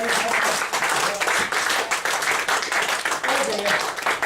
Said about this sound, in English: Give her a round of applause as she goes back to the audience.